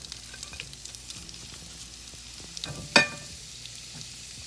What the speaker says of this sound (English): So I'm going to go ahead and go in with my onion and peppers.